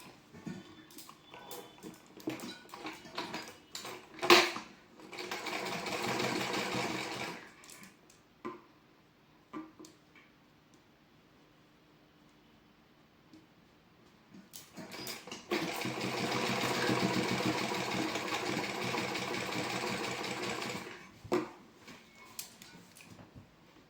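A sewing machine stitches a frill onto a blouse neckline in two clear bursts of rapid mechanical whirring, separated by a quieter stretch with scattered handling clicks and fabric shuffling, close and fairly soft.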